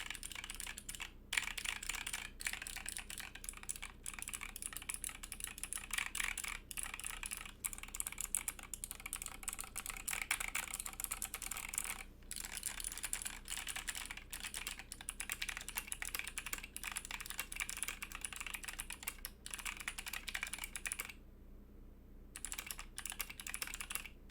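Typing test on a custom acrylic DZ60 60% keyboard fitted with clicky switches: a fast, continuous patter of crisp keystrokes with one brief pause near the end, and no talking.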